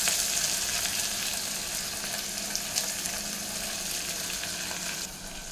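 Chopped onion hissing in a hot pan with garlic, a continuous bright sizzle that stays steady and fairly loud, easing slightly near the end, with no voices.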